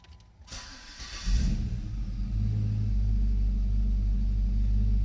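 A 2009 Jeep Liberty KK with a swapped LS V8 cranks briefly, catches and fires up, then settles into a loud, deep, steady idle rumble close by.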